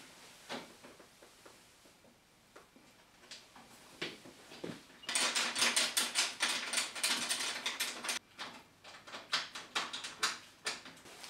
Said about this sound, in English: We can then put the nuts on the back of the bolts.